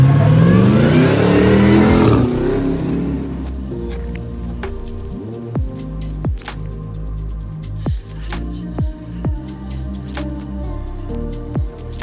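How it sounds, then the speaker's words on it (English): A fully restored custom Land Rover Defender 110 with an LT4 engine and 8-speed automatic revs loudly up close for about two seconds, then settles to a low idle broken by sharp clicks and thumps. "Blade is powered by our LT4 engine with 8-speed automatic transmission."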